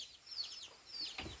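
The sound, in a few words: chickens clucking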